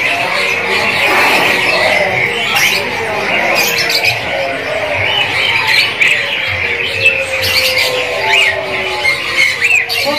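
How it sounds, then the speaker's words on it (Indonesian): White canary song with rapid chirps and trills running continuously over a noisy, busy bird market background, fairly loud and close. "Inilah penampakan dari kenari bahan"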